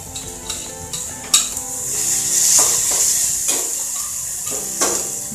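Onion frying in a pan with fenugreek (methi) leaves for a paneer paratha filling, a close, steady sizzle punctuated by repeated sharp clicks and scrapes of a spatula stirring against the pan.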